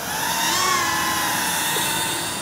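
Air Hogs DR1 FPV race drone hovering close by, a continuous high buzzing whine of small propellers holding a steady pitch, fairly quiet and alone.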